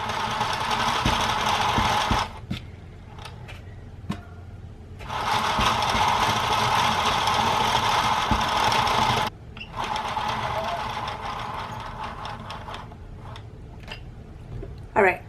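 A Prym 20-needle circular knitting machine is cranked by hand, giving sustained mechanical whirring in long bursts separated by brief pauses and light clicks, loud and close.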